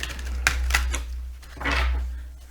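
Papery flicks and soft slaps of tarot cards being shuffled up close, in short bursts over a steady low hum.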